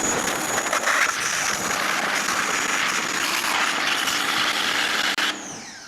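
A Hart 1700 psi, 1.2 gpm electric pressure washer sprays through a 25-degree nozzle into a bucket. The hiss is loud and continuous with a steady motor whine, and it cuts off abruptly near the end.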